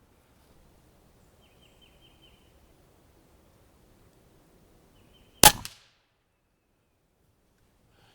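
A single sharp crack from an Umarex Origin 25 PCP air rifle fired at full pressure, loud and close, followed by a short ringing tail in an otherwise quiet setting.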